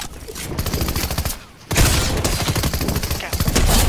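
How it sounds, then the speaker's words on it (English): Rapid gunfire in a Fortnite match, a dense loud stream of repeated shots with a brief lull in the middle before firing resumes even more intensely, close and continuous. "This person needs to stop shooting."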